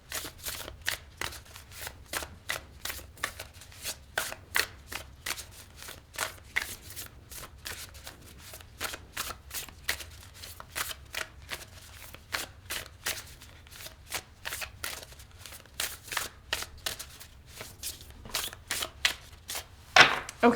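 Tarot cards are shuffled by hand in a continuous, close run of soft, rapid riffling and flicking for about twenty seconds, steady and quiet, with no voice over it.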